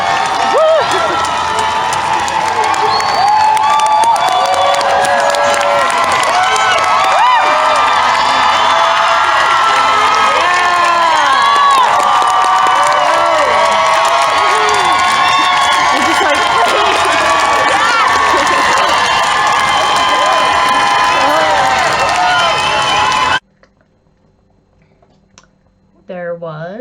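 Spectators lining a Pride parade cheer and shout loudly as a truck goes by, a continuous dense crowd roar with excited voices and some clapping close by, then a sudden drop to near silence.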